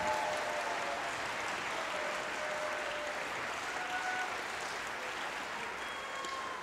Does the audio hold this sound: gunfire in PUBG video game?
no